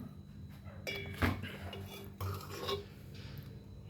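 Malai and onion sabzi being served onto dishes, with a few clinks and scrapes of a spoon against cookware and plates, moderately close, over a low steady background hum.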